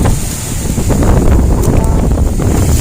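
Loud wind buffets the microphone over a rushing wash of sea water at San Nicolas, Batangas, continuous and close, with no voices.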